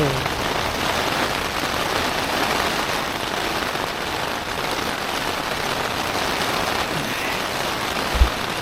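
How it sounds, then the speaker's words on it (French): A dense, unbroken roar of heavy rain and wind beats on a tent in a stormy Icelandic night, loud and close, with a single faint knock near the end. "Mais il y a un vent et une pluie."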